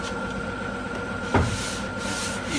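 Hand block sanding on a Toyota Camry body panel ahead of primer gives a steady, close scratchy rub in even strokes, broken by one brief soft knock midway, with no talking.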